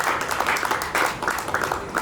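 Applause from guests at a chartered accountants' cricket league party, a dense, steady clatter of many hands clapping close by for the full two seconds with no speech over it.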